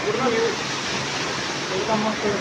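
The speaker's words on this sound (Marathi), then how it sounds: "बाजूला धबधबा" Steady broadband rush of a waterfall near Pitalkhora, India, fills the scene, a constant roar with faint voices underneath.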